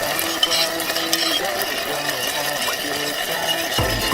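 Lumpia filling sautés in a pan, a constant busy sizzle with stirring scrapes running throughout, with a faint background hum and a brief clunk near the end.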